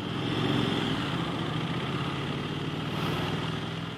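A 2021 Aprilia motorcycle engine runs steadily and loudly up close, a constant droning hum without talk.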